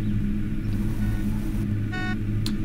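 Race cars in the game Unturned give off a steady low engine rumble, with a brief higher tonal whine rising partway through.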